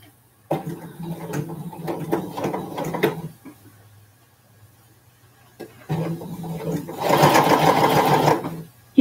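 A home sewing machine stitches in two runs, a rapid mechanical whirring burst, a pause, then a longer louder run, with a person talking around it.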